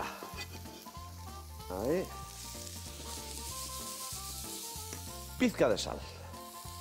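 Chopped onion and garlic sizzle softly in a pan for a dish of broad beans with black pudding, a steady hiss with a few stirring clatters while someone speaks briefly over soft background music.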